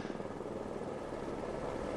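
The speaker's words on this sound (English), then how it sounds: "The helicopters naturally were up at this point." A helicopter flies over a desert stage of the Lisboa Dakar Rally, its rotor giving a faint, steady, slightly pulsing drone with no voices.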